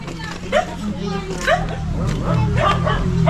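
A small dog yips and barks a few times in quick bursts, mixed with nearby chatter and background voices.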